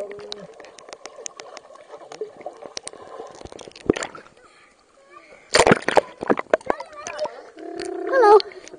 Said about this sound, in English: Gonna go right in the water.